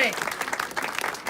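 Audience applause at the opening and dedication of Ancich Waterfront Park in Gig Harbor, a short burst of dense outdoor clapping with a voice briefly audible at the start.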